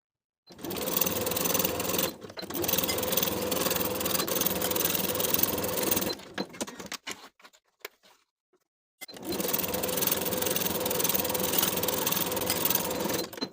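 A sewing machine stitches the side seams of a lined coat, running in long steady whirring passes near at hand, pausing with a few clicks mid-way, then starting again.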